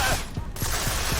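Gunfire aimed at the player in the video game Deus Ex: Mankind Divided, a dense burst of rapid shots with low repeated thumps, loud and continuous across the moment.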